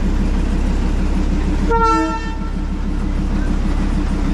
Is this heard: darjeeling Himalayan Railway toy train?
yes